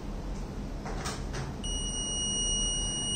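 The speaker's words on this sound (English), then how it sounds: "there will be an alert and also buzzer indication" A high, steady electronic buzzer tone from a solar power grid monitoring system's temperature alert starts partway through and keeps sounding over faint background noise.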